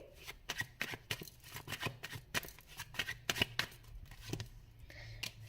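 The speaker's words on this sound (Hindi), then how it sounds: "कुछ कार्ड्स में और भी निकाल लेती हूँ" A deck of tarot cards is shuffled and drawn: rapid, close riffling and crisp card snaps in an uneven rhythm. No talk.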